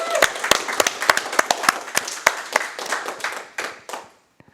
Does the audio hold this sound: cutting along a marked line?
no